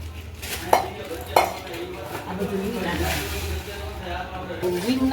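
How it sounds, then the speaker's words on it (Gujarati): Raw ingredients for gund pak, including roasted urad flour, mixed in a metal pot with a spoon, giving two sharp clinks followed by steady scraping and stirring, close and fairly loud. "હવે બધું કાચું જ મિક્સ કરવાનું છે"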